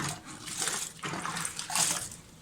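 Tap water runs steadily into a kitchen sink while food is rinsed under it, a close, continuous splashing hiss that swells and shifts as the stream hits the food.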